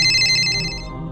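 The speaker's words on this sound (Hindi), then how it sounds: "रात को उसका फोन बजता है।" A phone rings at night with a bright electronic ringtone, a sustained pulsing tone that stops abruptly partway through, leaving a low hum.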